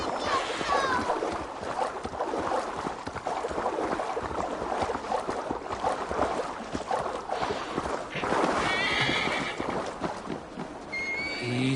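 Horse neighs and hooves in Assassin's Creed Valhalla ring out over continuous game ambience, with several whinnies standing out, a strong one near the end, while a voice talks now and then.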